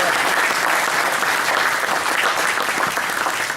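Audience applause for a club's general president at a committee presentation: dense, loud clapping from a crowd, continuous and even for the whole few seconds.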